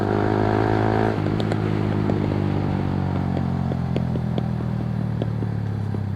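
A Yamaha R15 V3 motorcycle idles steadily up close, then its exhaust crackles and pops in sharp, irregular bursts over the continuing engine drone as the revs fall.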